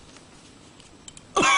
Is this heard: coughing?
yes